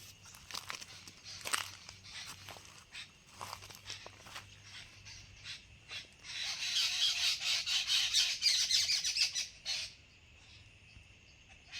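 A flock of birds calls in a forest with repeated harsh squawks and chatter, some near and some farther off, rising into a dense burst of calls, while footsteps crunch softly underneath.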